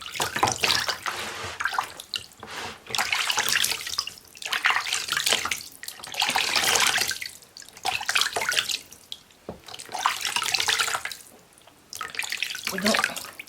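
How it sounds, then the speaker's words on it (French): Running water rinsing feet, splashing and pouring in several separate bursts with short pauses between them, close and fairly loud. "Vous allez rincer vos pieds simplement avec un gel neutre."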